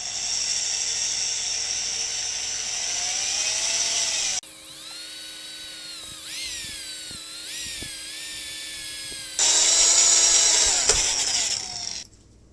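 A power drill boring a hole into a steel motorcycle handlebar, a steady high-pitched whine that shifts pitch as the bit bites and ends abruptly, loud and close with no talking.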